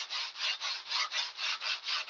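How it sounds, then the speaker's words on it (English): Sandpaper rubbed back and forth over a seam between wooden sheets, evening one piece down to the level of the other, in a steady rhythm of about nine close, even strokes. "when you start sanding on this and bringing it down to the other level of the other piece of sheet here"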